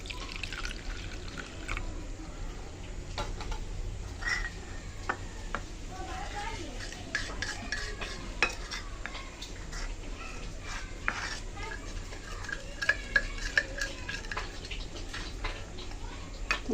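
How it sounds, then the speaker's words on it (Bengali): A spoon stirs a ginger-cumin, chili and turmeric spice paste mixed with water in a bowl, making soft irregular clicks and wet taps, quiet and close, over a low background hum. "মশলাটা গুলে নিলাম।"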